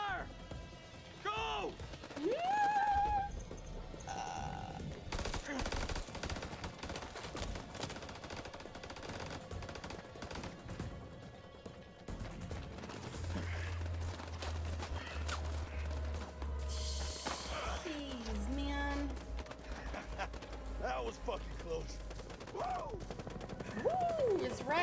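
Bursts of gunfire and machine-gun volleys crack through a firefight in the video game House of Ashes, repeated and loud, with shouting voices and game effects layered over the shooting.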